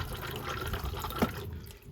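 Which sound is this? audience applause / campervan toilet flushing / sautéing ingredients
campervan toilet flushing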